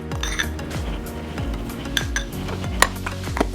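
Utensils clink and scrape against dishes while lemon garlic hummus is spread onto a wrap, with repeated short metallic taps and brief pauses, close and clear.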